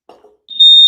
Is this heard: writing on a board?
no